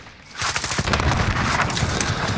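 Rapid bursts of automatic gunfire in a Call of Duty: Modern Warfare match, loud and close, firing in quick overlapping volleys across the whole moment.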